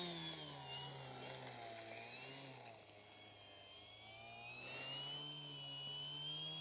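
A Fun Cub RC model plane's electric motor, running on a 4S lithium-ion pack, whines at a steady, faintly wavering pitch, close and fairly quiet, with the tone rising and falling slightly as throttle changes.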